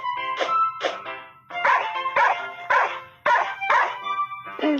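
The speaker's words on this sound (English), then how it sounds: "Dog." A dog barks repeatedly in a steady series of about nine loud, close barks with brief gaps, alone with no talk.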